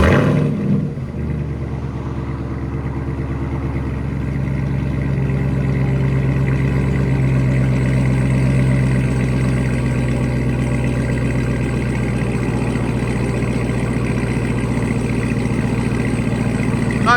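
2022 Ram TRX engine with mufflers removed, a steady loud, deep idle rumble that swells slightly after the first second and holds a throaty, even drone throughout.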